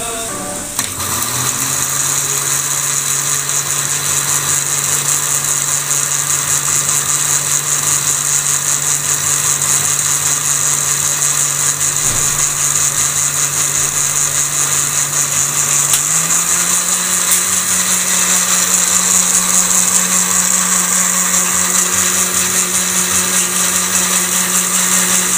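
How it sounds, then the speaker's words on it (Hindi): A kitchen mixer grinder whirs steadily as it purees spinach leaves, a loud, continuous motor drone that holds for the whole stretch and shifts slightly higher in pitch partway through. "अब इसको ग्राइंड करते हैं।"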